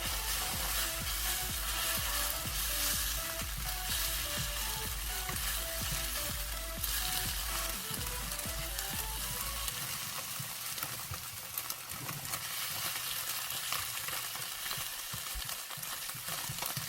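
Steady sizzling of eggs being scrambled in a pan for tomato and egg stir-fry, with scraping and stirring throughout, a low rhythmic tapping underneath for the first half.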